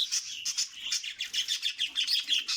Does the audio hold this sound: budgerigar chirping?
yes